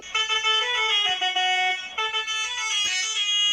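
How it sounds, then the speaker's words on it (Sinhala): A bus horn in the Driving Simulator Sri Lanka video game blares in several loud, sustained tones, one after another, switching pitch and timbre as different horn sounds are tried, with no other sound. "හෝන් ටික පොඩ්ඩක් බලමු."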